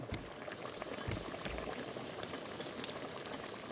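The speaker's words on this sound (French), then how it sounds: "Je fais cuire pas mal de viande histoire qu'on ait un petit stock de bouffe cuite" Meat cooking in the survival video game Raft, a steady bubbling, boiling-like sizzle running throughout at moderate loudness, with no talk.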